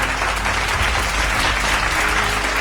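A church congregation bursts into sustained, dense applause, a steady wash of clapping from many hands filling the room throughout.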